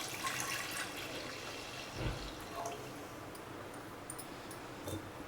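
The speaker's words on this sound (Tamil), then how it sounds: "அதுக்கு அந்த அரிசி எடுத்த கப்பாலே 1 கப் பால் சேர்த்துக்கிறேன்" Milk poured from a cup into a pressure cooker holding washed rice: a soft, continuous liquid trickle, faint and unaccompanied by talk.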